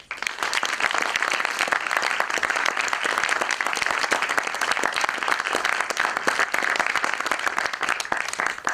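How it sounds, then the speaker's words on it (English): A lecture audience gives sustained applause after a last-lecture event, a loud, dense and steady clatter of many hands that holds evenly throughout. "I think we can all give Dr. Diehl another round of applause"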